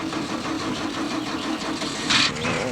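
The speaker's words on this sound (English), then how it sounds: "I'm just gonna go and fix the generator." A generator engine is cranked over, a rough mid-pitched churning that runs steadily, then a brief sharp hiss bursts out near the end, all close by.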